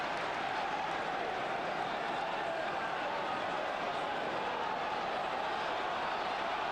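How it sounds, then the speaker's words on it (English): A Premier League football crowd at Chelsea versus Arsenal roars in a steady, dense wash of distant noise, urging a player on without any clear break. "Crowd urging Parker to get on with it"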